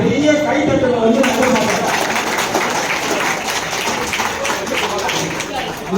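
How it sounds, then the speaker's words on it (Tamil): Audience applause at a temple consecration ceremony in Brindavan Nagar, Valasaravakkam, Chennai, with steady clapping from a crowd running the full length, mixed with a voice speaking over it. "நம்ம பிருந்தாவன நகர் மக்கள் சார்பா அவருக்கு ஒரு பெரிய கைத்தட்டலை"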